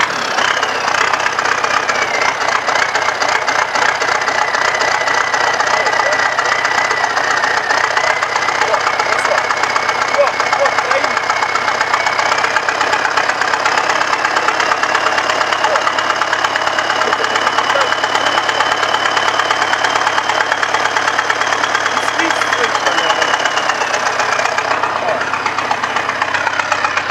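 A YuMZ-6 turbo tractor engine runs steadily nearby with a persistent knocking clatter under its loud idle drone, unbroken throughout.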